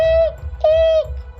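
A voice imitates a Bigfoot mating call with two sustained, nasal whistling hoots, one short and one longer, close and clear over faint background noise.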